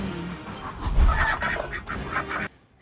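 Ducks quack and honk in a Doctor Who episode, a loud, busy cluster of overlapping calls that cuts off abruptly near the end.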